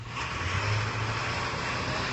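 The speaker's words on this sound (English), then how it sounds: "And we're in suburbia, so there goes the school buses." School bus rumbling past on a suburban street, a steady low engine drone with some road hiss lasting a couple of seconds, fairly close and with no voices.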